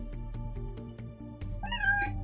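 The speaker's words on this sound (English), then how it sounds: "Meow." A cat meows during a game stream, a short call rising near the end over steady background music and game sounds.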